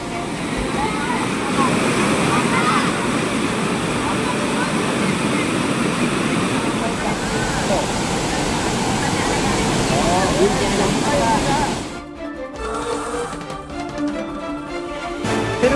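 Flash-flood water roaring down the Malvadi Gunda and Kapila Theertham waterfalls in the Tirupati-Tirumala hills after heavy rain, a loud, continuous rushing wash that cuts abruptly near the end, with a voice speaking over it.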